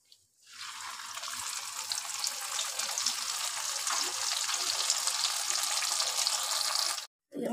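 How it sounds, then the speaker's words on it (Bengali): Paneer frying in a pan for butter paneer at home, a loud steady close sizzle that swells in after a brief start and continues evenly before cutting off abruptly near the end, with faint voices underneath. "আজকে জোজোর জন্মদিন, সেই জন্য আজকে একটু পনির রান্না হচ্ছে।"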